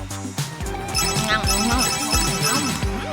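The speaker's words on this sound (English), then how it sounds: "Uh-oh, your phone!" A phone rings loudly with a bright, melodic ringtone that keeps repeating across the whole stretch, layered over other busy sound.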